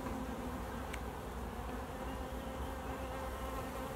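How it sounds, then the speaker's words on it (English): Honeybees swarm around an opened backyard hive, their close, dense buzzing holding steady and loud for the whole stretch with no voices. "There could be guard bees, they could defend the hive."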